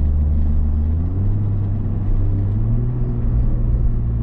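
A Toyota Supra drives on a race track with a loud, steady low engine rumble that holds evenly throughout, with no talk over it.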